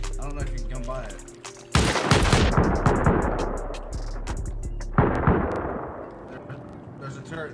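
Turret gunfire in a multiplayer survival game raid, sharp repeated shots and bursts with loud onsets near 1.7 and 5 seconds, continuing under excited players talking over voice chat.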